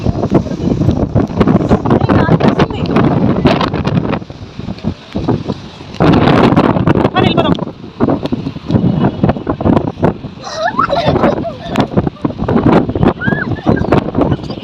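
Strong gusting wind during a heavy rainstorm in Dubai, loud and roaring as it buffets the microphone, surging and easing in waves with a brief lull midway, close and dominant with no clear speech.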